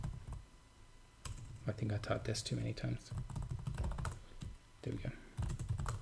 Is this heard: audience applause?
no